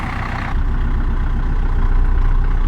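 A cold tractor engine idles just after starting on a frosty day, giving a loud, steady low rumble that shifts slightly after half a second and then holds even, with no voices.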